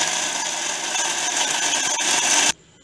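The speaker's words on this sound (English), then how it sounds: "Now let's grind it in the mixer." A kitchen mixer grinder grinds homemade dried fish food: a loud, steady whirring and rasping drone runs continuously for about two and a half seconds, then stops abruptly.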